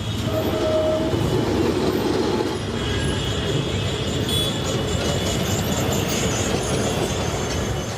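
A Kolkata tram rolls along its rails with a steady, loud rumble, metallic clicking and faint wheel squeal running throughout.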